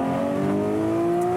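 A high-revving Porsche engine of 510 hp climbs steadily in pitch toward 9,000 rpm, loud and close, a smooth rising whine with no talking.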